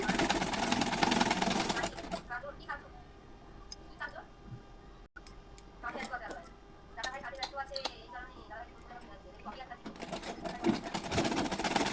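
A sewing machine stitching a size 32 Bombay-cut blouse buzzes loudly in bursts at the start and end, with someone talking through the quieter middle stretch.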